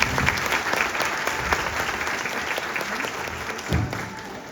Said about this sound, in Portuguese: Vamos aplaudir pra gente.